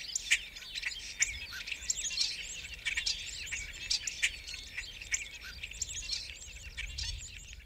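Several birds chirp and tweet steadily in the Australian outback near an old solitary wild stallion, with bright overlapping calls close by over faint low background noise.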